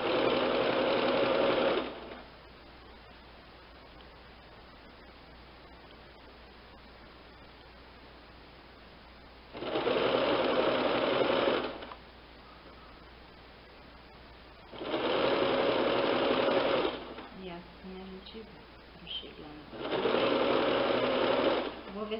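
A sewing machine stitches a cushion cover in four separate bursts of steady mechanical whirring, each lasting roughly two seconds, with long quiet gaps between them.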